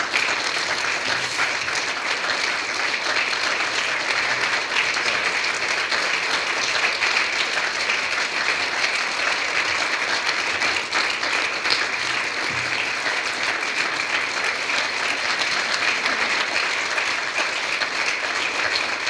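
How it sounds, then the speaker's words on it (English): A seated audience at a city human rights award ceremony applauds continuously for nearly twenty seconds, an even, dense wash of clapping with no voices rising above it. "Please give a round of applause to Scott Wopata."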